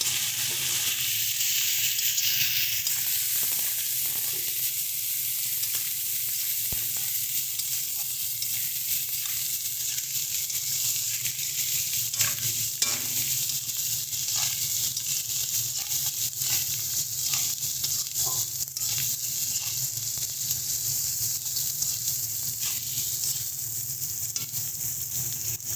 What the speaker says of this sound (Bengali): এবার ভালো করে সমস্ত মশলাগুলোকে মিশিয়ে দিচ্ছি।